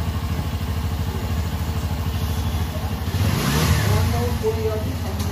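A Hero Glamour motorcycle engine idles with a steady low throb, then revs up briefly near the end before settling, close by and fairly loud.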